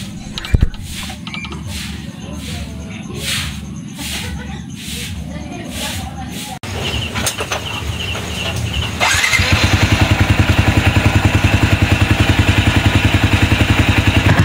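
A motorcycle engine, newly reassembled after a valve adjustment, is cranked and then starts, settling into a loud, steady, close-up running rhythm after a stretch of quieter mechanical tapping.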